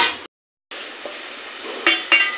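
Ginger, garlic and coconut masala hitting hot oil for an egg and drumstick curry, a steady close sizzle broken by a short gap, with two sharper bursts of spattering near the end.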